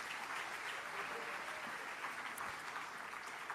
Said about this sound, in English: Can we please clap and congratulate the projects that have been chosen?